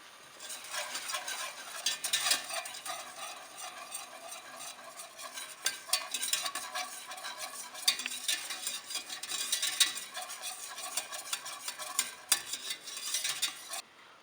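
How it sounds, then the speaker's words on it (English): A spoon stirs a boiling marshmallow sugar mixture in a pot, making soft, irregular scraping and bubbling sounds that continue close and fairly quiet, with no talking. "and I have to mix it."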